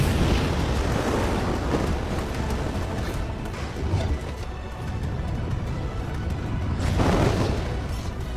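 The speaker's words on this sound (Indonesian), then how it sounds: "Teriakan dan ledakan terdengar menandakan keberhasilan Jinwoo membangkitkan Igris." In a Solo Leveling anime scene where Jinwoo raises the knight Igris, a huge rumbling explosion roars continuously, swelling in waves with a fresh burst near the end, mixed with distant shouting.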